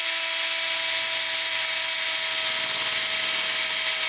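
Power drill boring screw holes into a bird feeder protector, a steady continuous high whine held at the same pitch throughout, close by and loud, with no talk.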